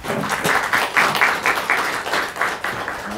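Audience applause at an outdoor mobile mayor's office event in Tanhyeon-myeon, Paju, honoring the mayor; rhythmic, fairly loud clapping in bursts from a modest crowd, continuing for a few seconds.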